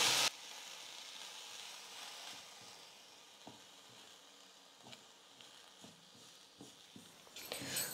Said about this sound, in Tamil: தீ ஃபுல்லா வைக்காம கொஞ்சம் மீடியம் ஃப்ளேம்ல வச்சிக்கிட்டே எள்ளுல இருக்கக்கூடிய ஈரப்பதம் போயிட்டு நல்லா ட்ரையா வர வரைக்கும்